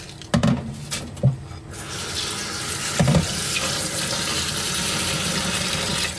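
Vegetables rinsed under a running kitchen tap, with a few knocks and clatters at the sink before a steady rushing stream of water takes over, loud and close with no talk.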